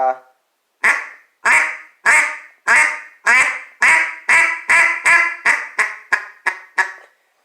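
Quacking duck calls blown in a series of about a dozen short blasts, coming faster and closer together toward the end, loud and near.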